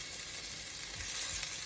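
Onions and garlic frying in a pan, a steady, hissing sizzle with a soft crackle throughout, close and fairly quiet, with no talking.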